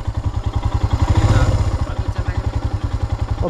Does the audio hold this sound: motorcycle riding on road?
yes